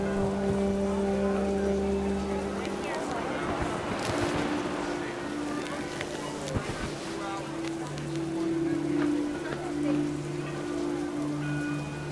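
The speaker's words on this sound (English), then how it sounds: "rain came down in buckets then" Rain pouring down in the game What Remains of Edith Finch, drumming on a tent in wind: a steady hiss of heavy rainfall over low droning tones, continuous and moderately loud.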